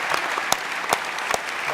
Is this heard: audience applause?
yes